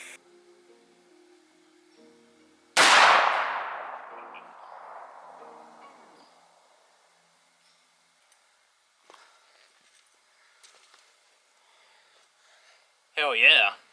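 A Remington 1858 black powder revolver fires once with a loud, sharp boom that trails off into a long decaying echo. Before and after the shot there are quiet handling noises and faint voices.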